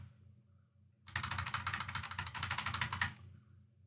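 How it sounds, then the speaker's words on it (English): Mage Knight board game cards are shuffled back into a deck in a steady run of crisp, rapid ticking card flicks lasting about two seconds, close and fairly quiet, with no voices. "I'm just gonna shuffle everything back into here."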